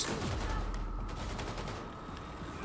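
Gunfire in the video game Wolfenstein II, a dense, loud burst of rapid shots at a steady volume throughout.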